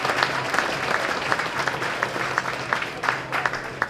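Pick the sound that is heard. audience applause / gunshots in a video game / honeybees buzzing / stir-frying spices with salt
audience applause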